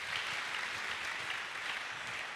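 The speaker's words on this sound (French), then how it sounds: "On peut acclamer le Seigneur." A church congregation claps and acclaims the Lord, producing dense, continuous applause that fills the room evenly from start to finish with no talk over it.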